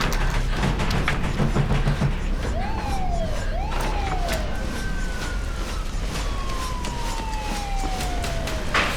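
A police siren wails in rising and falling sweeps, fairly far off, over a dense noisy street background that runs through the whole scene.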